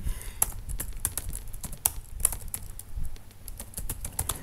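Fingers typing on a computer keyboard, close and clear, with rapid irregular key clicks and taps running steadily throughout.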